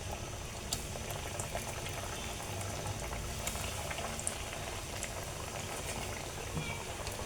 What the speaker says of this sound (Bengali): তো এই তো আমি এখন বাকিগুলো ভেজে নেব।